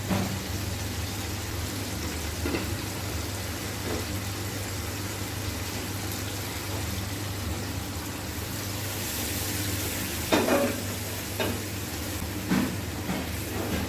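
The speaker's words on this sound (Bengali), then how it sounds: "মশলার সাথে চিংড়ি মাছটা কষিয়ে নিব" Prawns fry with masala in a pan for Bengali-style chingri malaikari, a steady close sizzling hiss throughout, broken near the end by a few sharp scrapes and clinks of stirring.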